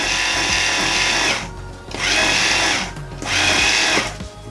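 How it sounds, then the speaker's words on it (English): A small DC geared motor on a homemade busy board spins a wheel in three loud whirring bursts, each switched on by a push button and cutting off between runs. "is the DC motor or DC geared motor with this wheel that can be turned on with this push switch"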